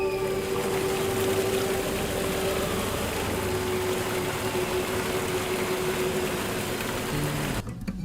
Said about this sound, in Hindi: आखिरकार हम उस वाटरफॉल तक पहुंच ही गए और कुछ ऐसा था उसका नजारा